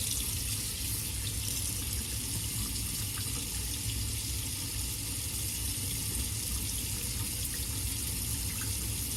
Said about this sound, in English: the water's going to take forever to warm up